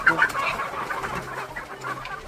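Desi hens on a country poultry farm cluck in short, close, repeated calls over a quiet background.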